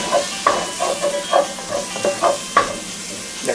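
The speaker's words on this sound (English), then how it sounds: "Stir that around a bit." Garlic frying in a pan while being stirred, with repeated soft scrapes and clinks over a light, steady sizzle, close and moderately loud.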